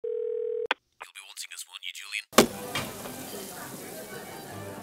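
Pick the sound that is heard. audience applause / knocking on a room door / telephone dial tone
telephone dial tone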